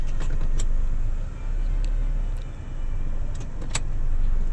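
A Honda Accord with an automatic transmission rolls in reverse, its engine a steady low rumble with soft mechanical clicks, close by and without talk.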